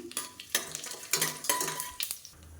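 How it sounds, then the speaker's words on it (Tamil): Fennel seeds and stone flower fry in ghee in a pan. A spoon scrapes and clinks in short, uneven strokes over a soft sizzle, close by, with no talking. "ஒரு டீஸ்பூன் சோம்பு சேர்த்துக்கலாம் இது எல்லாமே நல்லா பொரியட்டும்"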